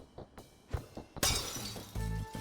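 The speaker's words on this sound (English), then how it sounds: "You up for smashing some light bulbs?" Glass light bulbs smashing in the Night in the Woods video game: a few light taps, then a loud, bright shatter with scattering glass, followed by a steady low hum.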